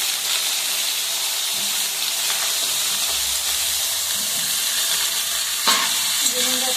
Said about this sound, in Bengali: বেগুনগুলো ছেড়ে বেগুনটা একটু ভেজে নেবো